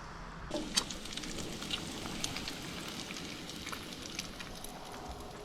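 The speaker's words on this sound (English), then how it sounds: "Rain's coming again." Steady rain patters outdoors near Split Rock Lighthouse on Lake Superior's shore, a dense, even hiss of drops with a few sharper close ticks.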